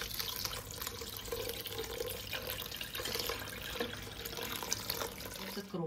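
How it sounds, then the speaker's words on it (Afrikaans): Lentils rinsed under a running kitchen tap, a steady close splash of water into a sink or strainer that holds throughout without talk. "Een rinse met skoon water."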